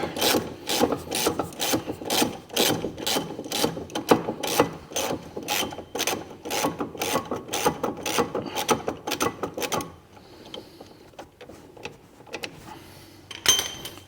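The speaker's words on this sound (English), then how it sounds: "we've got the 17mm extractor on. We're winding that off" Rapid rhythmic ratchet clicking from a ratchet with a 17mm extractor socket winding off a brake caliper bolt on an MG ZS 180, loud and close, stopping near the end with a final burst of clicks.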